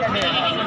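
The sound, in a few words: goat bleating at a goat market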